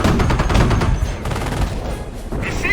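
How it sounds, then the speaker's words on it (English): A machine gun fires in short, rapid bursts in the World War II strategy game Company of Heroes, set during Operation Market Garden. The crackling rounds sit up close among ongoing battle noise. "Short bursts. Fire in short bursts."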